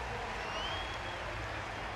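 Stadium crowd applauding at an evening athletics session of the London 2012 Paralympic Games, a steady, dense wash of distant clapping and crowd noise with no clear voices.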